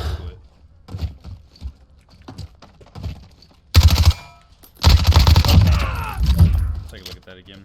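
Automatic gunfire from the video game Warzone, with two loud full-auto bursts of rapid rounds fired on mouse input, the second longer and sustained, after a quieter stretch of faint clicks and small sounds.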